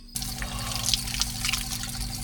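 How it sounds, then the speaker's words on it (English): A cold outdoor shower after a fishing session in Australia sends water pouring steadily, with close splashing and dripping over a constant low hum, and no talk. "oh, there's nothing like a nice cold shower."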